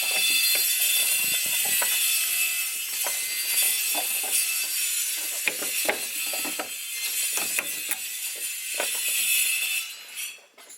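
Nuts and screws being tightened during a fuel pump install on a Honda Civic, heard as a steady, close ratcheting clatter running for about ten seconds before it trails off, with no talking.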